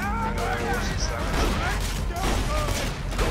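Explosive rifle fire in Borderlands 2, a rapid rattle of shots and bursts with a voice talking over the gunfire.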